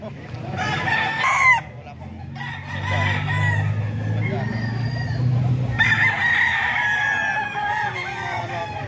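Banded roosters on a Bulacan gamefowl farm crow loudly twice, one call early and another later, over a low murmur of farmyard noise.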